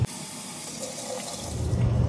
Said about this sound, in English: we're gonna be washing some chicken with cold water